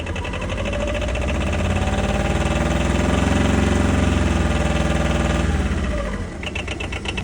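A cold twin-cylinder diesel engine idles close by with a steady, rough, knocking chug, swelling slightly in the middle before easing off.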